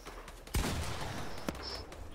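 Gunfire in a tournament match of a shooting video game: a loud single shot bursts out, followed by another sharper report, with a faint high electronic tone and game ambience underneath.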